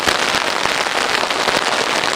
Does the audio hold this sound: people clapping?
no